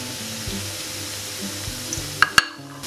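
Bread cubes fry in hot sunflower oil with a soft, steady sizzle, broken near the end by two sharp clinks like a utensil tapping the pan.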